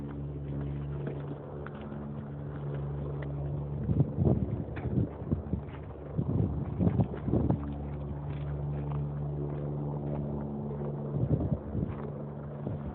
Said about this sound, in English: Hear noise in the background, just a helicopter going through the area.